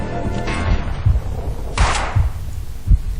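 Gunfire in Max Payne 2, several sharp shots and thuds spaced irregularly over a dense game-action background, with one louder burst standing out midway.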